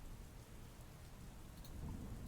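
Steady rain pours with a low rumble of thunder beneath it, a dense, even wash of sound with no voices, setting the mood of a night graveyard dig in a tabletop game.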